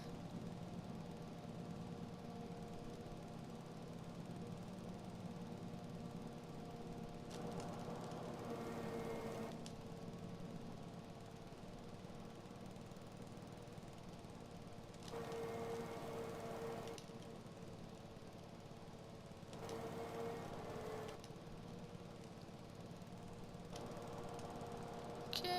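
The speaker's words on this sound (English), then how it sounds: "cruise along while mowing" Riding lawn mower engine running steadily while mowing a yard at an abandoned farm, a continuous mid-pitched drone at cruising speed with periodic louder surges, no talk.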